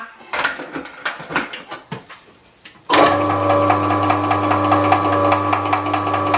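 A few clatters and knocks, then an electric vegetable slicer machine switches on and whirs steadily with a buzzing hum, close by, continuing to the end.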